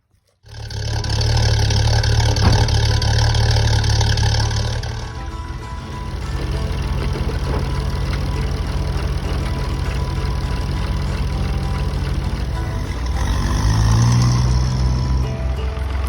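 A heavy tractor engine roars steadily and loudly throughout, dipping slightly partway before revving up again near the end.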